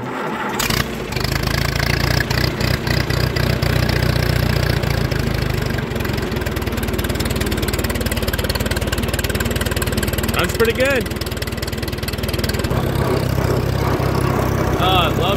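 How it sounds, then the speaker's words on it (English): A 70-year-old Allis Chalmers WD tractor engine starts and settles into a steady, loud, close idle, with a brief remark spoken over the running engine. "Oh, I love driving this tractor."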